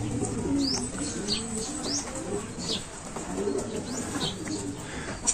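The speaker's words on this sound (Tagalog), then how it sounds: "Yan mga kalapatids." Pigeons coo on a rooftop in a steady, soft murmur, with occasional chirps and brief wing flaps over faint outdoor background.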